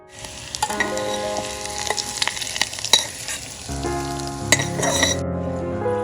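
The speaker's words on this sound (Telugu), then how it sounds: "ఇంకా ఈ తిరుగుమాతని పప్పులో వేసేద్దాం." Spiced tempering with asafoetida hits a pot of lentil dal made with thummi leaves and tamarind, setting off a loud, busy sizzle and crackle with scattered metal clinks, then a deeper bubbling hiss midway.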